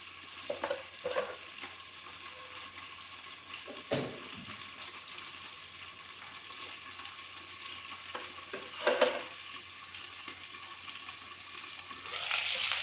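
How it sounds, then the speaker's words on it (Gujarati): Tomatoes for a red chilli chutney cook in a lidded pan with a low, steady bubbling hiss, interrupted by a few faint clunks and knocks of the lid and pan. "હવે આપણે આ ટમેટાને બે મિનિટ ઢાંકણ ઢાંકી દઈશું એટલે જલ્દી ચડી જાય"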